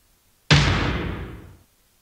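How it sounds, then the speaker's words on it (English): A gunshot sound effect pitched down into a deep, booming single blast that hits hard and then rings out for about a second before cutting off, alone with no other sound. "A tuned down gunshot that sounds like this."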